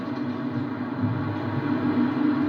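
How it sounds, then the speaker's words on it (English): A steady low rumble of a train rolls on and gradually grows a bit louder, a continuous heavy drone with no voices. "Oh, here comes the train."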